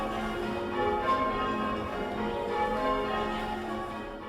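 Church bells rung outside, a dense continuous wash of overlapping ringing tones sustained throughout at steady moderate loudness, with no talk.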